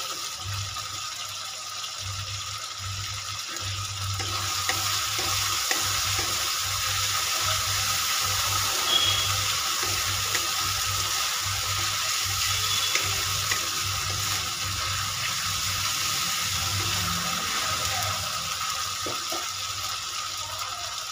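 Chopped tomato hits a hot frying pan while cooking a paneer and pointed gourd (potol) pasinda, giving a steady, broad sizzle that holds for about twenty seconds, with a faint rhythmic low clatter underneath and no talking.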